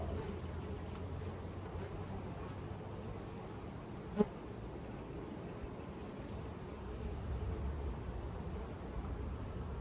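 Bees buzz in a steady, faint drone with a soft low hum underneath and one brief click partway through.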